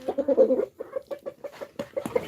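Backyard chickens cluck in a quick string of short, close calls, fed on vegetable peels and scraps from the kitchen.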